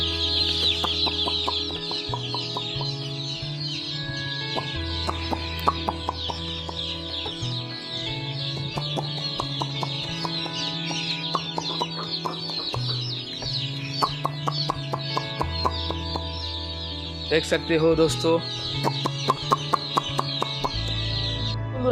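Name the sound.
baby chicks chirping on a poultry farm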